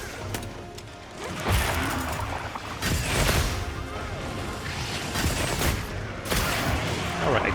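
Video game gunfire aimed at demons: heavy, booming shots crack out in uneven bursts, with thuds and crashes between them, loud and close, while a voice talks over the action.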